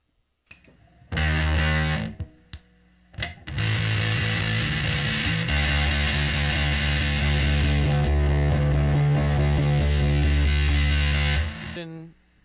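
An electric guitar through a Dwarfcraft Devices Eau Claire Thunder distortion pedal plays loud, heavily distorted sustained chords and riffs, with a brief pause early on, then rings out continuously before stopping.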